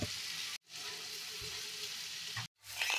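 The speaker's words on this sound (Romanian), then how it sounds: "Peste salam pun prazul și de asemenea las și prazul să se călească puțin și amestec un pic." Leek and salami sauté in a pan with a steady, close sizzle that cuts out briefly twice, with faint stirring scrapes underneath.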